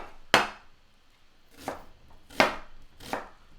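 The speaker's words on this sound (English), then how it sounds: "I want this to be minced pretty fine" An onion is finely minced with a knife on a cutting board, giving four sharp, separate chops spaced about a second apart, close and fairly quiet with no talking.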